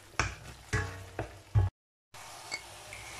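Tomato puree being mixed in a pan, several distinct scraping and stirring strokes with light sizzling, followed by a brief gap and then a soft simmer.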